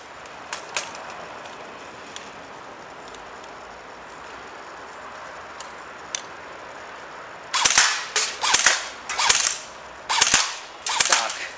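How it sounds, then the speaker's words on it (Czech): An airsoft P4 CQB M4 replica rifle fires at cans: scattered sharp single shots first, then a tight series of about six louder cracks near the end, close and without speech. "To byla moje střelba."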